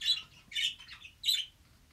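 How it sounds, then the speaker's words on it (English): Three shrill, close squawks from budgerigars come in quick succession, harsh and high-pitched, with faint background noise between them. "I have male budgies, and they're loud."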